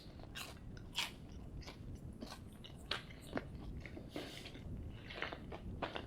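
Close, crunchy bites and steady chewing of food spread with Whole Earth peanut butter, repeated crisp crunches over about six seconds with no talking.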